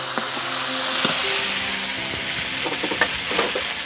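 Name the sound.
spice pastes (cumin, ginger, dried chili) sautéing in a pan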